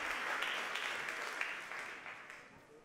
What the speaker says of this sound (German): Also großen Applaus